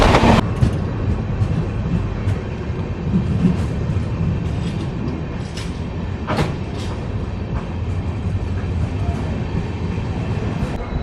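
A passenger train on the long-distance run from Kanyakumari to Kashmir rumbles steadily along the rails, heard from inside a nearly empty coach, with a continuous loud roar and occasional sharper clanks.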